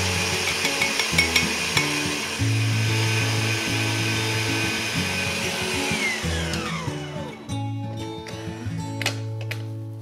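An electric mixer beats eggs with sugar in a bowl, a loud, steady motorized whir with slight pitch shifts, winding down near the end.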